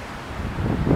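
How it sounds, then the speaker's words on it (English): Wind blows steadily on a windy day outdoors beside home-built wind turbines and solar gear, a low rumbling gust buffeting the microphone and swelling louder toward the end, with no talk. "This is a nice windy day today."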